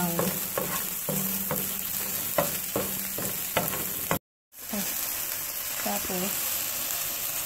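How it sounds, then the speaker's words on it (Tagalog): Green onions stirred and frying in a pan for a siopao filling, a steady sizzle broken by repeated scraping stirs, with one brief dropout partway through. "Ilagay ang sibuyas na dahon sa loob ng kawali. Tapos, haluin hanggang mag-brown."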